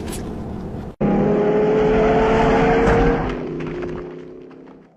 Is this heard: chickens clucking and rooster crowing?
no